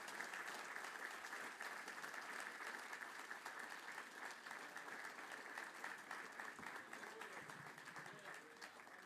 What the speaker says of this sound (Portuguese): Você pode receber essa palavra e dar um aplauso bem forte para Ele?